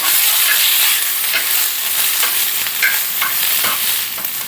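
Onions stirred in a few drops of oil in a pan sizzle and fry steadily, with soft scraping strokes from stirring throughout, close and fairly loud with no voices.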